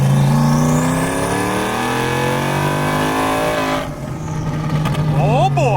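A single-turbo 2018 Mustang GT engine makes a loud tuning pull, its note climbing steadily in pitch as it accelerates, then cutting off abruptly before a rough idle and a brief blip; voices talk over it.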